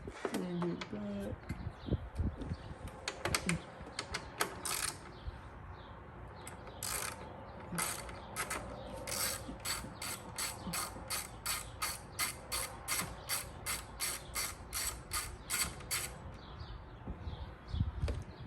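A hand ratchet loosens a spark plug on a BMW F90 M5 with the S63 V8 engine, using an adapter for a rear plug: quick, evenly spaced metallic clicks come in long runs, close and crisp, after some earlier handling noise.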